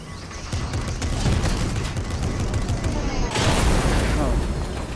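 Rapid gunfire rattles steadily throughout a Fortnite No Build squads match, with a heavy missile strike booming in near the end; dense, loud, and layered with game noise.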